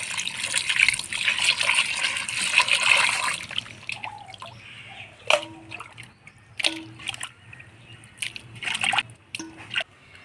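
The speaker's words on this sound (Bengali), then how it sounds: "মাংসটা পরিষ্কার করে ধুয়ে নিলাম" Leg pieces of chicken being washed in water outdoors under a tree, with a steady trickle and splashing at first, then intermittent sloshing and dripping as the meat is handled.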